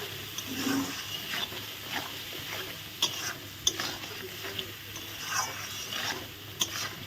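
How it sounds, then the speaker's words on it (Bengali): A whole onion with turmeric and salt is sautéed for chicken curry, a low sizzle in the pan broken by repeated scraping stirs and the odd clack of the spoon, close by and with no talk. "গোটা পেঁয়াজ একটা ভালো করে একটু কষিয়ে নেব"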